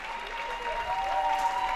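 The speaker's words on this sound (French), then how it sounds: "Sous vos applaudissements, la nouvelle championne de France, Marie Batomene." Applause for the new French women's badminton champion after a national championship final, steady clapping from an indoor crowd.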